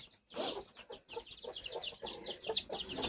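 A chicken perched up on a roost gives soft, repeated clucks in a quiet rainy setting, short irregular calls close by with no talk.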